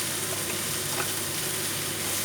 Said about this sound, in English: Now saute for a while because in between you have to saute